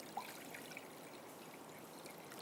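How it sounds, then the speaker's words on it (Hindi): Water poured into a cooking pot in a home kitchen, a steady soft trickle and splash running throughout, close and moderately quiet. "अब मैं इसमें ले लेती हूँ थोड़ा सा पानी।"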